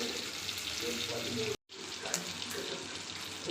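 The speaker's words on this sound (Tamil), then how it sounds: "இப்போ நான் வந்து மீன் பொரிச்சிக்கிட்டு இருக்கேன்." Fish frying in a pan of oil for a fish curry, a steady loud sizzle with a broad hiss throughout, broken by one brief dropout in the middle.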